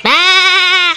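A goat gives one loud, close bleat lasting about a second, a wavering, nasal cry heard on its own.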